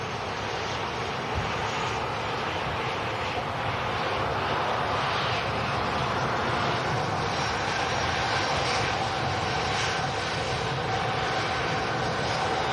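A Boeing 747 jet airliner lines up on the runway for takeoff, its engines giving a steady, loud, broadband roar throughout with a faint whine on top and no voices.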